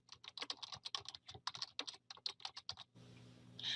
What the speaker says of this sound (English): In the description, type the description for this code.